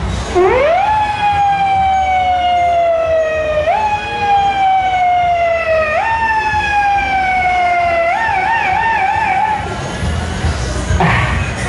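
An ambulance siren wails in a rising and falling pattern, loud and close, repeating in several long sweeps before it briefly warbles and fades near the end.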